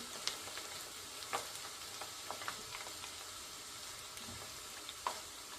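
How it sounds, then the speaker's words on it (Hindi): Chopped onions fry in oil in a karahi until light brown for keema, a faint, steady sizzle broken by occasional small pops and crackles. "प्याज हल्की ब्राउन हो रही है।"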